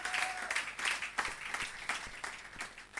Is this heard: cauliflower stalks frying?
no